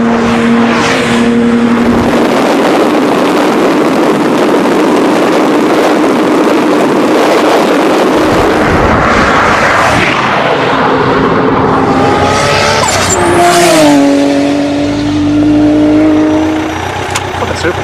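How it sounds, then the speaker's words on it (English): A Toyota Supra and a Lamborghini race side by side, with loud, close engine roars that rise through the gears, shift and surge again, plus some whine and wind noise throughout. "The Supra allows the Lamborghini a little bit of a jump, knowing that it's got enough horsepower to chase it down"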